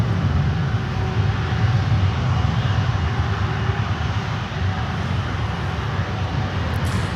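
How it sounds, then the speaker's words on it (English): An airliner takes off, its jet engines making a broad, continuous roar that stays loud and steady throughout, with no voices. "This was like an airshow performance takeoff."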